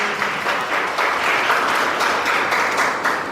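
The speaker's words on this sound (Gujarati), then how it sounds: "આપણે સૌ તેમનું તાળીઓથી સ્વાગત કરીએ" A crowd at a death anniversary gathering applauds continuously, many hands clapping in a dense, steady roar that sounds fairly close and loud throughout.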